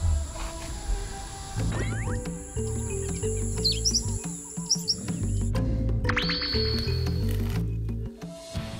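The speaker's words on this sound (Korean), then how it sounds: "새소리에 우거진 정글" Jungle bird calls chirp and whistle over a steady bed of layered music, with bright tweets scattered throughout the busy, dense background.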